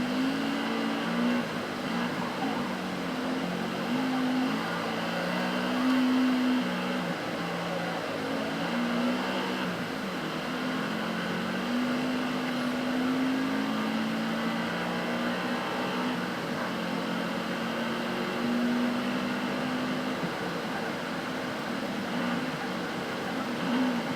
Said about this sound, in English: I still sometimes bang off the rev limiter a little bit